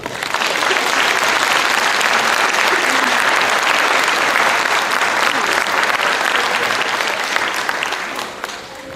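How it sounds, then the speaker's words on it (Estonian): Loud, sustained applause from a crowd at a kindergarten spring celebration in Paide, dense clapping rising quickly and holding steady for nearly nine seconds before easing slightly at the end. "teeme meile kõigile suure aplausi"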